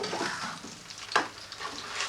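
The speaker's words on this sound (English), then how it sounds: "And now we fry it" Beer-battered fish fries in hot oil, a soft, close crackling sizzle with a brief sharper pop in the middle, steady and fairly quiet.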